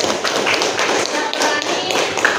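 A classroom group claps for a student, making a short, dense burst of quick overlapping hand claps that lasts only a couple of seconds.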